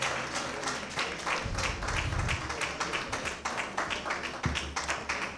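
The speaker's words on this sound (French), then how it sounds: "On peut les applaudir jusqu'à ce qu'ils s'asseyent." A seated audience at a graduation ceremony for an academy master class applauds the graduates, steady dense clapping from many hands that carries on continuously without speech.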